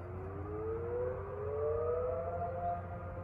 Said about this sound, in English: So I'm gonna keep quiet so you guys can listen to the house siren.